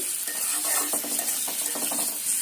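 Potatoes stirred in a pan with onion and spices, a steady sizzling hiss of frying broken by repeated scraping strokes of a spatula, close and continuous.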